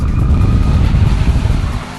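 Chevy Camaro driving hard on a test track, a loud, close, steady engine roar with rumbling low end and hints of tire squeal, easing slightly at the end.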